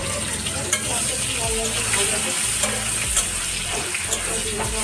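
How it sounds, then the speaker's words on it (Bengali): Chopped onion frying in a pan gives a steady, dense sizzle with occasional stirring scrapes and clicks. It runs continuously, close and fairly loud, with no talk. "পেঁয়াজটা একটু ভাজা ভাজা হোক ততক্ষণ"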